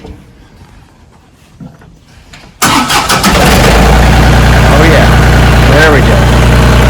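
A ranch tractor is started with the ignition key in a garage: quiet rustling, then the engine cranks and catches abruptly, settling into a loud, steady, close idle.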